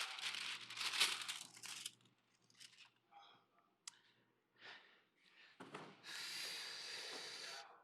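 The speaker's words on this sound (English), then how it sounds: "And then I wrap it." Tart dough is wrapped in parchment paper, producing close, quiet crinkling and rustling in short bursts with brief pauses, ending in a longer stretch of crisp paper handling.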